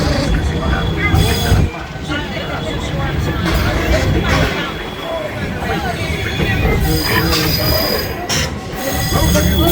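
The Walt Disney World Magic Kingdom Railroad train rolls along with loud, steady rumble and clatter of cars on the track, some wheel squeal, while a recorded announcer and a crowd of passengers talk over it.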